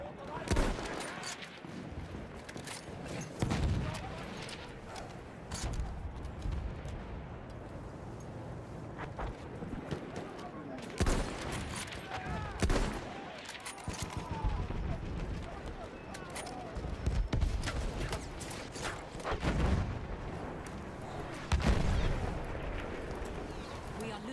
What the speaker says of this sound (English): Look out! Machine gun!